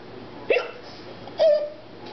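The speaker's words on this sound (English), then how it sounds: "I have hiccups." Two sharp hiccups from a young child, close by and spaced about a second apart, in a quiet indoor room.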